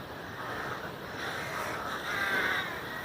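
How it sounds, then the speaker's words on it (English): Crows caw outdoors near their nests amid steady wind noise, calls blending into a continuous backdrop with one clearer caw standing out near the end. "you probably can hear all the crows. They're all up here nesting"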